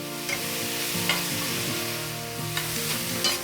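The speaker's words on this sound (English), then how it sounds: "So you want to quickly sear this." Thin-sliced beef for a pepper steak stir fry sears in a single layer in a hot pan, giving a steady close sizzle with light scrapes and taps from stirring. No one speaks.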